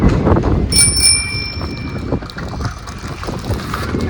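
Children ride bicycles outdoors at night, with a bicycle bell ringing clearly near the start over steady wind noise and the rolling rumble of the rides.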